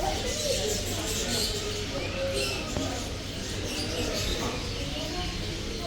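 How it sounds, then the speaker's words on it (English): Busy bird market ambience in Sharjah with scattered bird chirps and cooing mixed into a steady murmur of people talking nearby. "Apparently there's a bird market."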